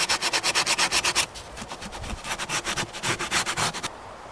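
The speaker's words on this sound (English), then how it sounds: "Now I'm just going to go back and sand these little rough edges off with some sandpaper here." Sandpaper rubs along the rough edges of a routed wooden helmet piece in quick, steady back-and-forth strokes, close and fairly loud, with a brief pause midway before the scraping resumes.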